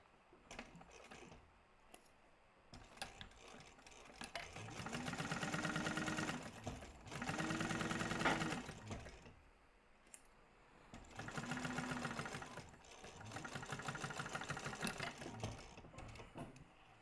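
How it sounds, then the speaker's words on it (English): A sewing machine stitches the seam of a Taymor crossbody bag, running in four sustained bursts of steady mechanical whirring with quiet pauses and light handling sounds between them. "I'm going to sew this up at the seam allowance in the pattern"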